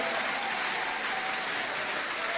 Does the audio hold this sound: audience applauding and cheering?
yes